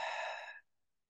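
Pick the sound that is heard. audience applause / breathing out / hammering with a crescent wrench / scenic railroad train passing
breathing out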